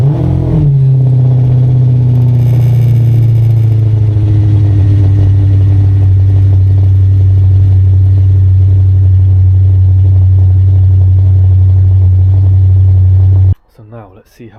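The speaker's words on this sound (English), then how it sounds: "So now we're going to go for a test drive." An Audi RS5 engine starts and settles into a loud, steady drone with a strong low hum for about thirteen seconds before cutting off abruptly, with brief noise after.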